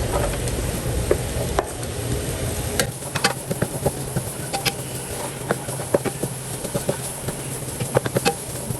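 Garlic and onion sautéing in a pan, a steady close sizzle broken by scattered clicks and scrapes of stirring, with no talk.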